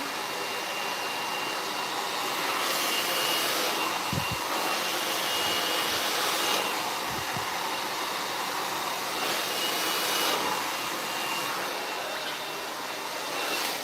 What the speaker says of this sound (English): After it is all dry, you're just gonna roughly blow dry